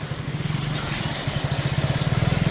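Motorbike engine chugging with a rhythmic low pulse as it rides through knee-deep floodwater on a rain-soaked road, steady and fairly close.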